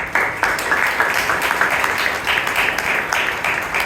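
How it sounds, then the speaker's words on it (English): Audience applause at a Toastmasters club meeting in Bangalore: steady, dense clapping from a roomful of people, fairly close and sustained, with no talk over it. "Round of applause for him."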